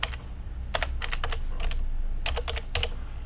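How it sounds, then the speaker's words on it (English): Typing on a computer keyboard during a home live stream: quick irregular clusters of clicky keystrokes, close and distinct over a low steady room hum. "And you can hear me typing."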